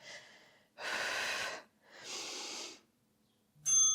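Heavy, effortful breathing during a low-impact lower-body resistance band workout, with two strong breathy exhales and a quick sharp gasp at the end, close and with no talking.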